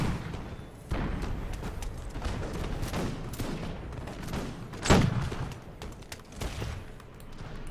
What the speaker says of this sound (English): especially after a few more volleys from the Mushkietorevsky Polk